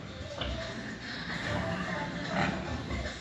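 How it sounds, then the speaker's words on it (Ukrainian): Piglets resting in a pen give soft, low grunts and shuffling sounds at moderate loudness, with a couple of slightly louder grunting bursts, over a steady background murmur. "Поросята відпочивають, все в них частенько, гарно."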